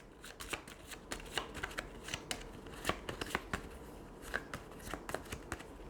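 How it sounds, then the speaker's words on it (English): Terraforming Mars Automa cards being shuffled by hand on a table, a close, quiet run of rapid papery riffles and taps in uneven bursts. "Let's mix up here the Automa cards."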